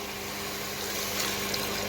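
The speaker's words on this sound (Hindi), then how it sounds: "इसमें थोड़ा सा पानी डाल देंगे" Water poured into a pot of cooking cauliflower and tomatoes, a steady close pouring and splashing rush that holds evenly for about two seconds with no talk.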